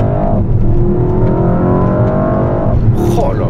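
Mercedes-AMG S63 E-Performance accelerating hard in sport plus mode with the exhaust open and the gearbox locked in manual. A loud, steady engine roar rises in pitch, with a brief shift-like change near the end.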